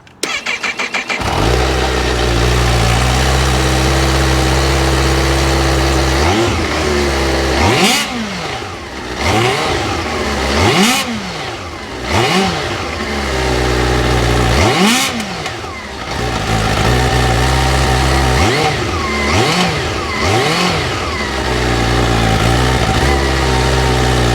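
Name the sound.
supercharged sport motorcycle engine idling and revving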